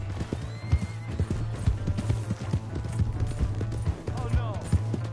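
A horse galloping in the video game Red Dead Redemption 2: quick rhythmic hoofbeats pound close by, a whinny rises near the end, and people talk over the hooves.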